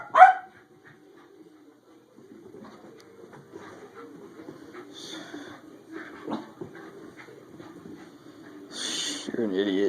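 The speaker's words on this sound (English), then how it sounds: "What are you barking about?" A dog gives one sharp, loud bark up close, then softer whines and yips follow over several seconds while a person talks nearby.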